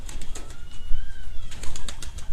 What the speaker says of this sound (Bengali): সুন্দর কবুতর